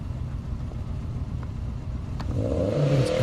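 BMW M5 Competition accelerating hard down an airport runway drag strip, engine note rising steadily from a low rumble to a louder, climbing roar toward the end, heard alone.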